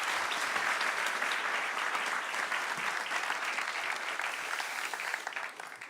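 An audience claps steadily at the unveiling of a solar race car, the applause dense and sustained before easing slightly at the end.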